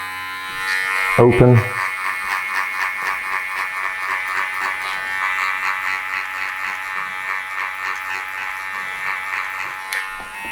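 Electric hair clippers fitted with a half guard buzz steadily and close by while cutting a short summer haircut, after a brief clack and a single spoken word near the start.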